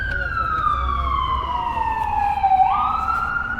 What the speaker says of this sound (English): Got ambulances around.